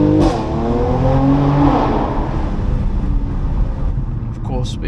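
A Mercedes C43 engine blips and revs sharply on paddle downshifts, with a quick rising and falling burst of engine pitch near the start, then a steady driving rumble and a brief crackle toward the end.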